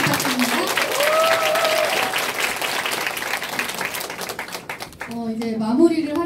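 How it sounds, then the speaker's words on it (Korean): An audience at a seminar claps loudly and continuously for several seconds, a dense wash of applause, while a voice speaks at the start and again at the end. "큰 박수 부탁드립니다"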